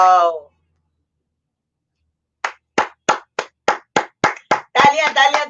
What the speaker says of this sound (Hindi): तालियां तालियां तालियां रूबी के लिए, तालियां